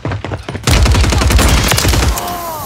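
Rapid, dense burst of automatic gunfire from Call of Duty Warzone on Rebirth Island rattles loudly for about a second and a half, then tails off into fading echoes.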